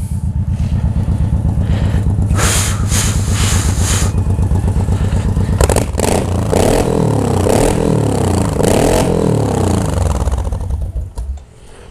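A Suzuki Boulevard M1500 motorcycle fitted with a full stainless-steel Atalla exhaust idles loudly and close with a deep, throbbing pulse, then gives a series of sharp throttle revs that rise and fall before fading out.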